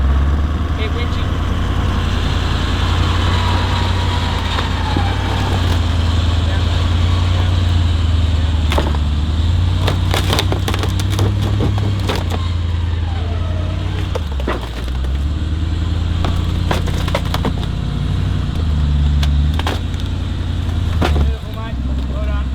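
A 4WD being winched up a steep hill at Wellington Dam, with a low, constant engine and winch drone running close and loud throughout, crossed by brief clanks and knocks, while a voice talks intermittently over it.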